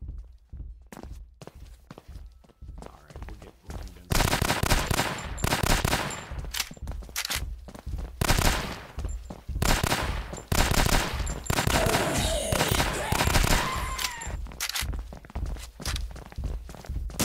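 Gunfire in the horror video game Gynophobia, with scattered sharp shots early and then a dense, loud, sustained stretch of rapid blasts and impacts, with no talk over it.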